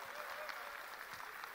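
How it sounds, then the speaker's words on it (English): Dense, continuous applause from an evening audience at a live corporate event, steady crowd clapping heard at moderate distance with faint background voices. "Let's give him a round of applause."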